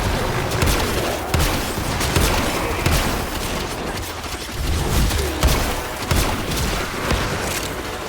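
Video game gunfire as a steady wash of loud overlapping shots and booms, dense and continuous with periodic sharper cracks, no clear gaps throughout.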